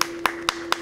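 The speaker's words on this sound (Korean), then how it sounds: "일단은 김태원 씨에게 박수 한번 쳐" A few people clapping for Kim Tae-won on a travel outing, four crisp, evenly spaced claps close by, with a faint steady hum underneath.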